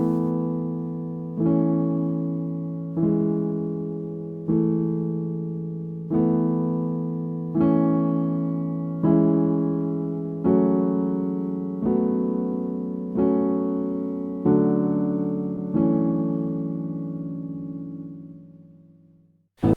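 A solo piano plays the verse of a song as a series of about eleven evenly spaced chords. Each chord rings and decays before the next is struck, and the last one fades out.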